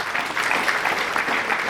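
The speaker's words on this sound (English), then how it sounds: "Can we once again give laudable applause to Mr." At an awards day for a science and maths championship, an audience claps steadily and fairly loudly, many hands blending into a brief, even burst of applause.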